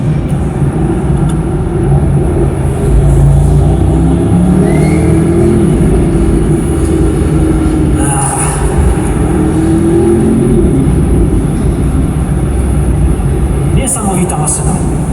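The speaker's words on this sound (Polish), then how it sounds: "Można się zakochać w pracy seryjnego wydechu." A car with a stock V8 exhaust, driven on a road at a motor show, rumbles steadily under loud talking throughout, with the engine note rising and falling slightly.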